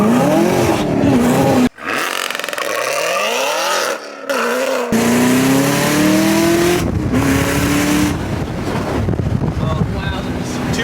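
A Chevrolet Camaro ZL1 1LE launching from a stop for a 0-60 run with wheel slip, its engine roaring loud and close, pitch climbing through gear changes with brief drops between shifts, under heavy wind noise.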